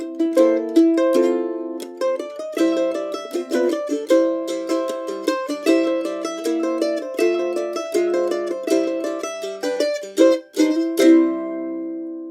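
Bright, plucked mandolin notes bounce through Scott Joplin's The Entertainer, a lively ragtime tune with a syncopated rhythm, close and clear with no talking.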